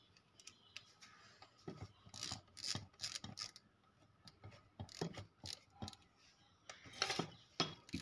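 A 6 mm Allen key tightens bolts during a high-pressure pump repair, producing a series of sharp metallic clicks and taps in irregular bursts at close range over quiet background.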